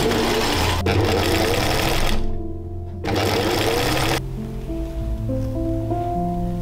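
A sewing machine runs steadily through a tulle and velvet dress bodice, a loud, close mechanical whir that stops briefly midway, then resumes and settles into a lower, quieter hum.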